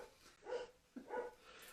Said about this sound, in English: I swear our dog knows when it's 5 o'clock.